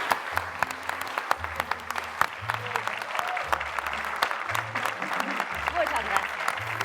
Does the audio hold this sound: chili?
no